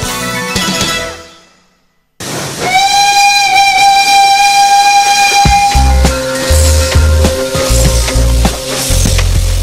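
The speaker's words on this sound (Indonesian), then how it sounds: "Itu kereta lama yang kita restorasi kembali, rehab kembali, kemudian dijadikan kereta wisata." An old restored steam tourist train's whistle blows a long, steady tone in Solo, Indonesia, fading out before the hiss and rumble of the locomotive carry on loudly.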